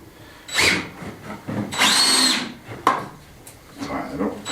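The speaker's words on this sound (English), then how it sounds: "Take a couple of pilot holes through this piece of wood here." A power drill bores pilot holes into a piece of reclaimed timber, whining in two short bursts, the second longer, with a few clicks and knocks between them, close and loud.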